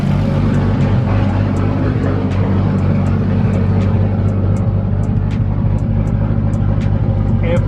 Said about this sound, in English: Turbo sounds good. No crazy noises in the head, but the injectors are super loud.